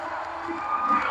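Crowd shouting and cheering at Rizal Stadium, a steady mass of voices held at a constant level with slight swells near the end.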